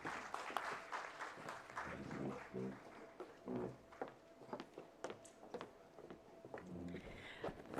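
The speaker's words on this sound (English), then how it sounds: "Let's give her a big round of applause." Audience applause at a corporate CSR and sustainability summit, with patchy clapping rising and falling under scattered voices and room noise, moderately loud throughout.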